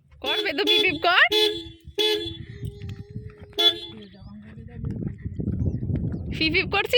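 Sharp car horn toots from a brand new car sound in short bursts, several quick beeps spaced between stretches of conversation and traffic noise nearby.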